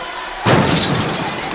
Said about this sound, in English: Shattering glass.